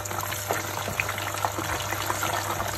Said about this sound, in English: we're going to heat up vegetable oil on the hob, as for frying the halloumi